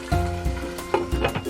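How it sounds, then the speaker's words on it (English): Chicken in soy sauce boiling in a pan, a steady bubbling sizzle with small pops and clinks running throughout, fairly close and moderately loud with no talking. "Let it come to a boil. Now that it's boiling,"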